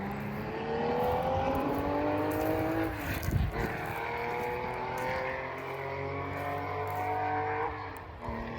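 A rally car at the Saint Germain la Campagne rally drives past, its engine note rising and falling through gear changes with a sharp burst midway. The sound is steady and fairly distant, with no talking.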